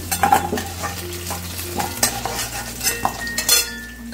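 Potato pieces with turmeric and salt fry in hot oil with a constant soft sizzle, while a metal spatula scrapes and clinks against the pan in irregular strokes.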